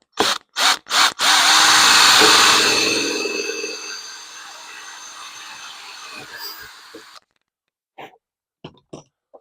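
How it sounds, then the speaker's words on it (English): A few quick bursts of a power drill, then a long high whine as the drill bites into a metal interior door panel and winds down, followed by quiet, scattered clicks. "Let's drill that again."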